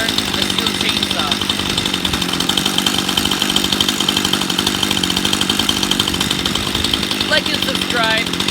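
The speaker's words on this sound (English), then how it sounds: "That's how you start a steel chainsaw." Stihl chainsaw engine running loud and close after being started, a sustained rough buzzing drone with no pauses.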